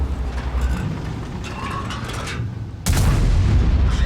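A single heavy tank cannon blast in a video game booms suddenly partway through, loud and deep, after a stretch of rumbling engine and battle noise.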